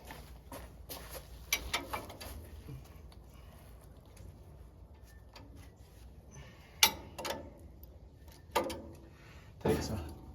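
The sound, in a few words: wrench undoing nuts on Farmall 130 tractor bracket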